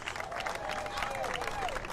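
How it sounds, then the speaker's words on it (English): A crowd at the opening ceremony of the 2021 Wisconsin State Fair applauds for Eric Conlon, a soft, steady wash of distant clapping mixed with crowd murmur and outdoor noise. "Let's give Eric a big round of applause for U.S. Cellular and their support for the last 16 years."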